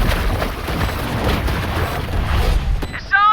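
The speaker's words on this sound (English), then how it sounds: "Swarm grenade out." A swarm grenade detonates in a Valorant esports finals match, a loud, sustained booming rumble of blasts and bursts that ends with a brief electronic game chirp.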